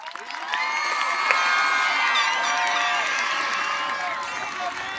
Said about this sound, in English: Family members and guests, please join me in giving them a round of applause.